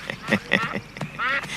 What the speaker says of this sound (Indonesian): saya bawakan burung meliwis sama jamur barat